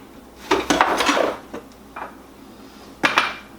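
A mixing bowl is clattered and knocked about while eggs go into a gluten-free pecan cookie mixture, giving a few sharp clinks and taps in quick clusters, then a final knock after a pause.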